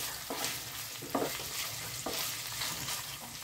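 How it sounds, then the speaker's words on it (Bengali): Paneer pieces fry lightly in a pan with a steady, moderate sizzle, broken by a few soft stirring scrapes at roughly one-second intervals, close and continuous with no talk. "পনিরটা আমার হালকা ভাজা হয়ে গেছে বন্ধুরা"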